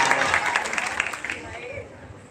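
Applause and clapping at a graduation ceremony of santri at an Islamic boarding school, a burst of many hands clapping that fades over about two seconds, with a voice speaking underneath toward the end.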